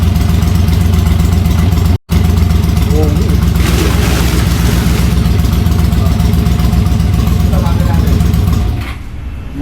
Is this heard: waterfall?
no